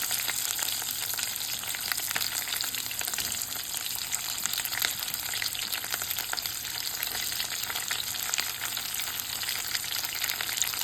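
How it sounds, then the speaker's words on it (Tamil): Onions frying in oil in a pan while a South Indian ridge gourd thuvaiyal is being cooked, giving a steady, dense sizzle that continues evenly and up close throughout, with no talking. "இப்போது வெங்காயம் போடுறேன்."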